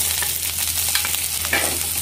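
Chopped onion sizzles in hot oil with ginger and garlic in a pan while a jackfruit curry is being cooked. A steady close-up crackle continues throughout, with scraping stirs breaking through.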